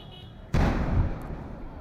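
Gas cylinder exploding on a truck in Dharavi, Mumbai, near Nisarg Udyan: a sudden heavy boom partway through, followed by a rumbling roar that slowly fades, heard over a background of news-footage noise.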